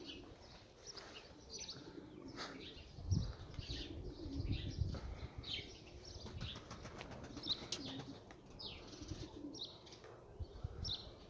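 A flock of pigeons let loose together, their wings flapping in bursts amid cooing and chirps, fairly faint and outdoors, with rustling beats that come and go across the stretch.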